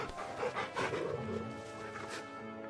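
A dog in the Final Fantasy 16 video game pants and whimpers softly, short breathy huffs over faint game background sound, close and moderately quiet.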